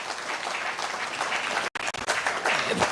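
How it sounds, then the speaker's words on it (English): Audience applause at an economic symposium in a Nairobi hotel, a dense, steady clapping that fills the room, broken by a short silent cut partway through before the clapping resumes just as loudly. "Another round of applause for Mheshimiwa."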